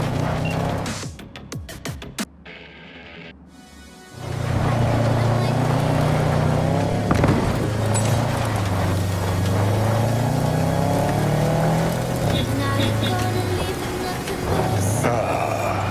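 Car being driven in the video game Cyberpunk 2077, a steady loud engine drone that starts after a few seconds of quieter sounds and holds with shifting pitch as the vehicle moves, with game voices over it.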